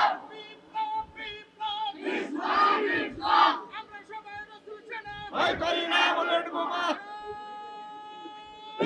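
A large crowd chants the takbir loudly in unison at a Bengali Islamic tafsir gathering, several rising shouted waves with a lone voice leading between them.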